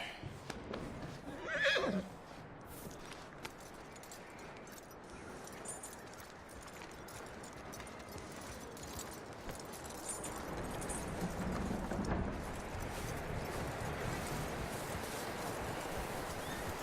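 A horse in the Red Dead Redemption 2 game gives one loud whinny near the start, followed by a steady outdoor wash of ambience with soft hoof clops beneath it.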